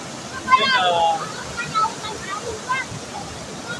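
A small waterfall on a river in Kisii, Kenya, makes a steady, low rushing wash in the background, while people talk close by over it.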